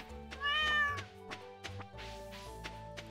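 A cat in the Stardew Valley farming game gives one clear, drawn-out meow near the start, followed by soft game thumps and tapping sounds over a steady background tone.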